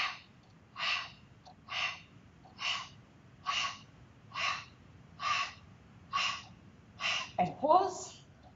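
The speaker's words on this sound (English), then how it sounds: "So 10 percussive breaths forward." Ten sharp, rhythmic breaths during a Pilates percussive breathing exercise, evenly spaced bursts roughly every half second to second, close and clear, ending with a longer ragged exhale.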